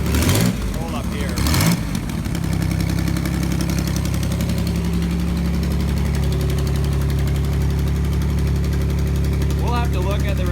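A 1987 Pontiac Fiero engine idles with a resonator fitted in place of the catalytic converter, giving a steady, close, low rumbling hum after a brief burst of talk at the start.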